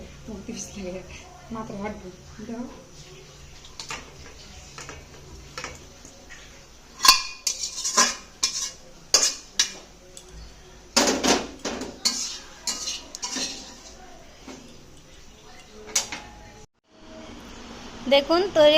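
A cooking pot and spoon clatter loudly as a finished pui shak curry with fish is lifted off the stove, with irregular metallic knocks and scrapes that bunch up midway, and a voice speaks in between.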